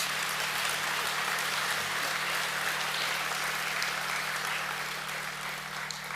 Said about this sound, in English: Can we give a round of applause, please, for our Year 8 award winners?